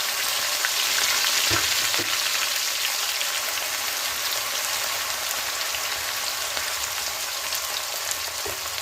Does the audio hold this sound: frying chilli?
yes